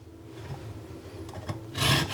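A rasp-style zester grates lemon skin in short scraping strokes, soft rough rasps building to a louder gritty scrape near the end, close and alone.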